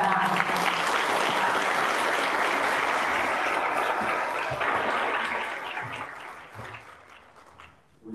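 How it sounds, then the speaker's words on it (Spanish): An audience at a conference on breaking the patriarchal pact claps to welcome a speaker: sustained, dense applause from many hands that thins and fades away toward the end. "Les pido un aplauso para que se sienta."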